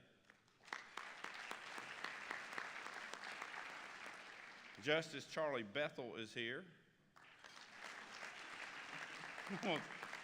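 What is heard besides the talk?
audience applause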